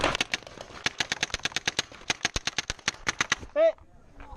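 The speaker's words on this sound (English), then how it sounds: "Davis, fire!" Paintball markers fire during a tournament, a rapid string of sharp, close pops in an uneven rhythm lasting a few seconds, then a brief shouted voice.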